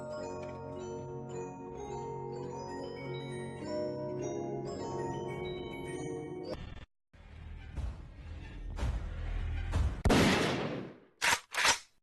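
Pump-action shotgun blasts crack out after a stretch of music, a heavy loud report followed by a couple of short, sharp bursts close together near the end, in a Five Nights at Freddy's setting.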